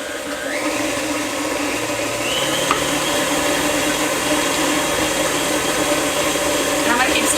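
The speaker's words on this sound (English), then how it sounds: "we're going to let that mix together until it's fluffy and creamy" An electric mixer creams butter and sugar for cookie dough, a loud, steady motor drone with a constant whirring hum running close and unbroken for the whole stretch.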